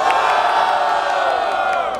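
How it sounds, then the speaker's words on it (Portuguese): A crowd at a Brazilian freestyle rap battle in Barueri cheers and whoops loudly and continuously, a dense roar of voices close to the listener. "Barulho para as rimas do Zaque"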